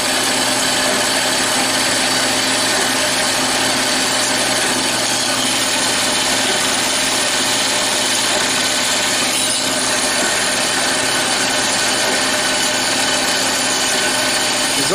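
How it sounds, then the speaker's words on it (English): A bandsaw cuts steel knife profiles, running loud and steady with a constant whirring blade and a continuous grinding rasp throughout. "we'll be over at the bandsaw getting them cut out"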